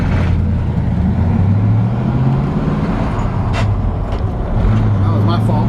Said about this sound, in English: a 1952 Ford F1 short bed truck. It's on a key start now with a rebuilt engine